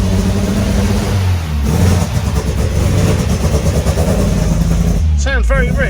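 An MGB GT revived after 20 years in storage, its engine running close by with a rough, rich idle and repeated revs, while people talk over it.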